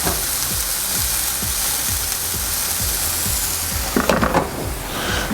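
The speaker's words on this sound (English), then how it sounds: "So vegetables are almost sautéed, eggs are boiling, which is great." Vegetables sautéing in a pan while eggs boil for a healthy breakfast give a steady, dense sizzle throughout, with a louder burst of crackling and stirring near the end.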